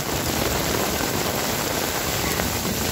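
Heavy rain falls steadily while someone walks home from work in a rainstorm, a dense, loud, unbroken hiss with no pauses.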